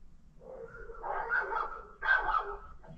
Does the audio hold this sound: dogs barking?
yes